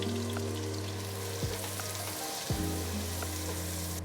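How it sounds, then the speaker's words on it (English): Diced onions frying in rendered pork fat for a Filipino corn soup, a steady close sizzle and crackle with two brief stirring scrapes in the pan. "Cook down the diced onions in the rendered pork fat until translucent."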